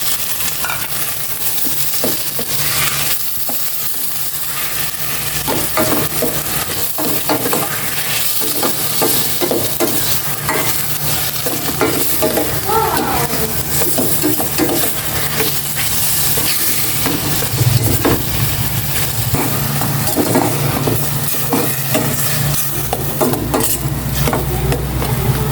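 Pork sautés in a pan, a loud, dense, continuous sizzle and hiss with occasional stirring scrapes, close up and steady throughout.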